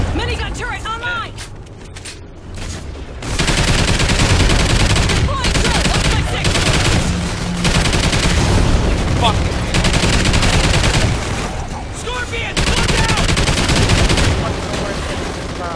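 An automated turret in Call of Duty Ghosts Extinction fires long sustained bursts at incoming enemies, loud and close, in several runs broken by brief pauses, with players talking over the gunfire.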